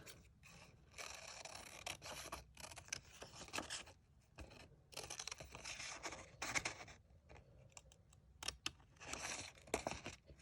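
Scissors cutting out a paper snowman, irregular bursts of close snipping and paper rustling with short pauses between cuts, fairly quiet throughout.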